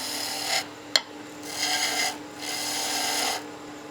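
A skew chisel's long point cuts into spinning wood on a lathe, giving three rasping bursts of about half a second to a second each, with a sharp click between the first two, heard close with no talk.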